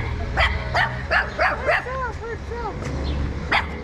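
A puppy yips and barks in a string of short, high, whiny calls at close range, with a few sharp barks, outdoors in Sikkim.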